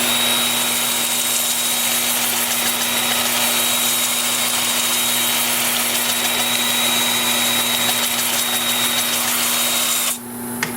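A 2-inch sanding disc presses against an olive wood bowl spinning on a lathe, making a steady, loud whirring hum with continuous gritty rubbing, close up, until it cuts off near the end.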